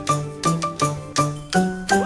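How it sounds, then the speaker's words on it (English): A bright bell dings repeatedly in a quick, even rhythm, each tinkling strike ringing briefly before the next, close and clear. "Bubble blue, the bell goes ding."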